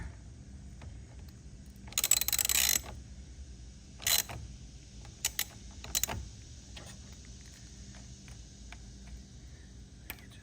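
Ratchet clicks while a fastener is loosened during installation of amber grill lights on a Ford Bronco, a rapid burst of clicking followed by a few short, sharp ticks spaced apart against a quiet background.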